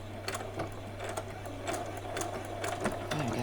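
A sewing machine runs a short back stitch on doll bedding, a steady close mechanical hum with rapid, evenly spaced needle ticks and no talking.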